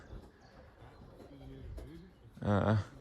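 Racing pigeons cooing, with soft low throaty coos in a short series near the middle amid background noise, then a louder nearby voice speaking briefly at the end.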